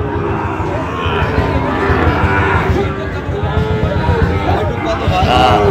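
Sahiwal bulls and calves low loudly and repeatedly at the traditional Ambari cattle market in Dinajpur, with overlapping moos over a steady crowd babble; people talk throughout.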